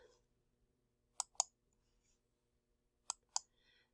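Two pairs of crisp computer mouse clicks, close and quiet, separated by nearly two seconds of near silence.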